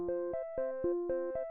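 A synthesizer plays short, stepped tones that jump between pitches in an uneven pattern set by random modulation, each note shifting slightly, clean and alone.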